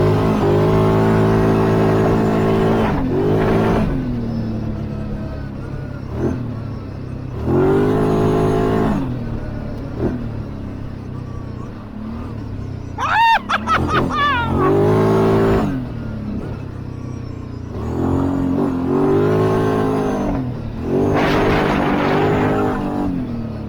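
A Kawasaki Brute Force 750 ATV, a 2024 model, revs and accelerates in repeated loud surges. The engine rises and falls several times close by, with a sharp burst midway.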